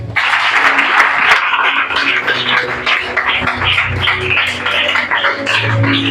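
A church congregation at a French-language worship service applauds and acclaims Jesus: loud, continuous clapping mixed with raised voices and shouts, close and energetic throughout.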